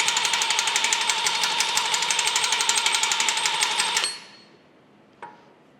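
The crankshaft of a steam stoker engine is worked back and forth by hand, giving a steady fast mechanical clatter of even rhythmic knocks for about four seconds, close and loud, then stopping, followed by one faint tap.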